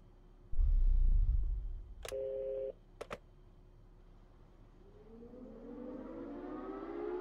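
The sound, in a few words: siren in the video game Security Booth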